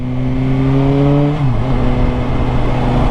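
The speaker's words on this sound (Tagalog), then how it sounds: "Napaka-pino ng tunog ng makina." A loud, smooth sport motorcycle engine drones close by, its pitch dipping briefly midway as the revs shift, then settling into a steady hum.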